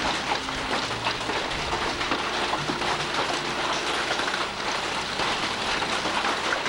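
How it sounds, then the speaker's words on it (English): Hail and heavy precipitation pounding steadily on a farm during an evening May storm, a dense, constant rattling roar that stays loud throughout with no pauses. "That's the second hailstorm."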